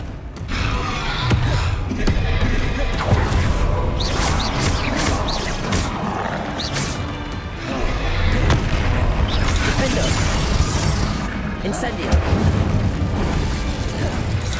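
Bombarda blasting spell cast in the Hogwarts Legacy video game, a dense run of booming explosions and bursts over continuous loud game noise, with a voice briefly shouting.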